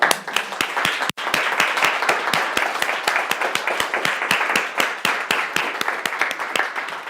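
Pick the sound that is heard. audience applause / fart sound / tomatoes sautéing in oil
audience applause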